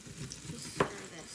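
Stirring through a pot of potato corn chowder that sizzles quietly on the stove, with one brief scrape of the spoon standing out from a low, steady bubbling hiss.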